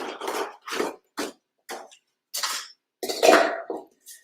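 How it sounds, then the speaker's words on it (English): Chopped carrots and onions are tossed into a cooking pot in a home kitchen, making a series of separate clattering, knocking bursts with short pauses between them, close and fairly loud. "So I take carrots and onions,"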